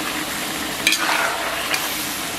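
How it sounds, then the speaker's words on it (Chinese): Beef stir-fried in a wok with light soy sauce cooked down to a sticky glaze, giving a steady close sizzle with a couple of brief scraping stirs. "然后咱们给它煸炒一下"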